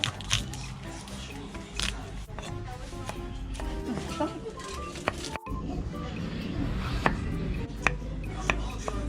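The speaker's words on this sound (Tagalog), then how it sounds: "Mag-iiwa pa tayo ng luya, bawang at ng sibuyas." Ginger, garlic and onion sliced with a knife in a rural kitchen while preparing laing with malunggay: a steady run of close, crisp cutting knocks against a board, continuing without pause over background noise.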